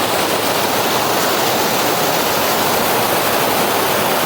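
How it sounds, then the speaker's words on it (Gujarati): Water rushing loudly down the Dhanikhunt waterfall, a steady, dense roar of white water close by that fills the whole clip without pause and with no voices. "કેટલું મસ્ત પાણી આમ ખડખડ વહે છે"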